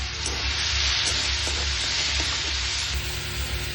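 Two chopped onions dropped into hot oil over whole spices such as cinnamon, bay leaf, dried chilli and cumin, giving a loud dense frying hiss that runs steadily throughout without talk.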